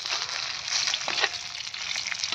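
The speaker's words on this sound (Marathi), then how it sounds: "आता ही मिरची तळून घेते वाईच." Green chillies fry in oil with a steady, close, bright sizzle and crackle that runs the whole time, with no voices.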